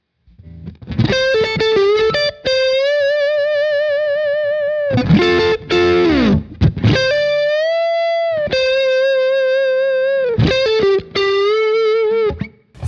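An electric guitar played through a Kemper Profiler with treble and presence turned down for a warmer distorted tone plays loud, sustained, bending lead notes, with short pauses between phrases and no voices.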